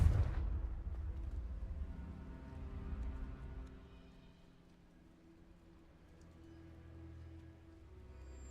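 A Confringo blasting spell explodes in Hogwarts Legacy with a loud, deep boom at the start, then a long rumbling decay that fades slowly, with no voices.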